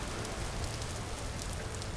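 Steady rain falls in the voxel survival game Vintage Story as a constant, even hiss of drops on surfaces. No voice is heard over it.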